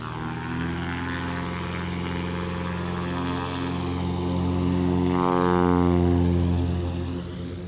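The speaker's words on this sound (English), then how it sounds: "that airplane becomes airborne instantly" A tricycle-gear propeller airplane with vortex generators and sportsman cuffs takes off at a heavy-class STOL competition, its loud droning engine and prop building to a peak and easing slightly as it climbs away, no talk.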